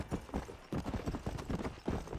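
Rhythmic hoofbeats of a galloping horse in the video game Red Dead Redemption, a steady, close, repeating clip-clop throughout with no talking.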